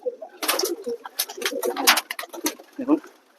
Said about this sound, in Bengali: দেখুন কেমন হবে সব স্নান করছে পায়রাগুলো